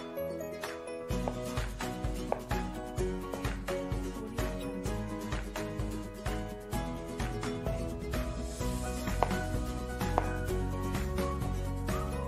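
Knife chopping tomatoes for a spicy sour stingray dish, with steady, close rhythmic cuts on a board running through the clip beneath prominent background music.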